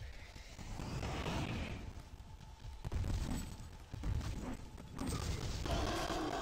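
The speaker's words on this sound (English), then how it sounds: "Grenades!" Grenade blasts in the horror action game The Suffering, several dull booming bursts at roughly 3, 4 and 5 seconds over a continuous loud rumble of game noise and debris.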